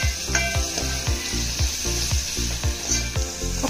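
Potatoes and tomato pieces fry in a pan for aloo vegetable khichdi, with a loud, continuous sizzle and a spatula scraping and stirring in a quick, regular rhythm.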